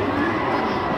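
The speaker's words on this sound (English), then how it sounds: "Everybody's cheering him." A crowd at the Penn Relays cheers a 74-year-old sprinter in the 100-meter race, a dense, loud wash of shouting voices filling the brief moment.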